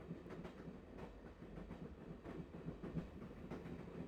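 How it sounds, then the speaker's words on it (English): Train wheels clatter steadily over rail joints in the adventure game Broken Sword: The Shadow of the Templars, a quiet, rhythmic clickety-clack with a low rumble underneath and no voices. "And then we're just on a train."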